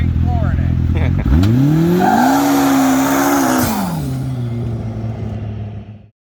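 A turbocharged Polaris Pro R UTV is floored from a standstill, its engine note climbing sharply through the revs with tire squeal. The run is loud and close, then fades away.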